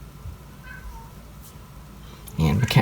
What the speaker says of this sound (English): and my cat wants in.